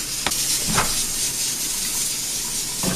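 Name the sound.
pressure cooker releasing steam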